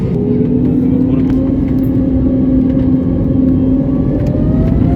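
An Air India Express airliner's engines power up on the runway for takeoff, a loud, continuous drone with a whine that climbs steadily in pitch throughout.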